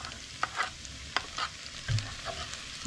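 Ginger and garlic sizzle in hot oil in a pan for chicken curry, with a steady soft frying hiss broken by several sharp scrapes and clacks of a utensil stirring, close and fairly quiet.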